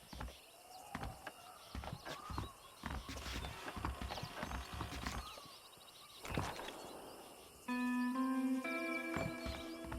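Hooves clop unevenly on hard ground with faint birdsong behind, and a musical tone enters near the end, from horses in the video game Red Dead Redemption.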